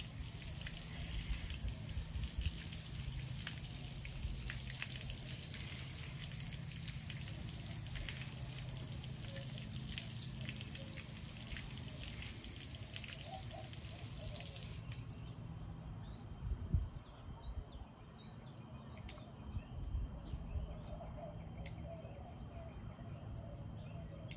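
Steady hissing spray of water from a broken garden hose patters continuously, with occasional bird calls in the background and faint voices.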